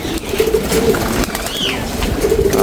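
Pigeons coo softly and repeatedly up close, low rolling calls over a constant background rush, with a brief higher chirp in the middle.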